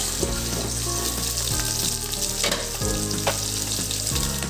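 Fish frying in a pan gives a steady, loud, close sizzle and crackle throughout, with a low repeating hum beneath it and no voices.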